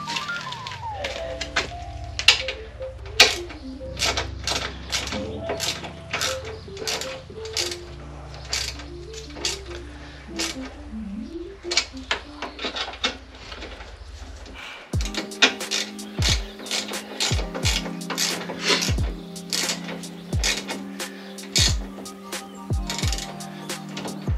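Rapid clicking of a ratchet wrench tightening the exhaust on a Triumph Tiger 900 motorcycle, with dense, close, metallic ticks in quick bursts and occasional clunks of tools.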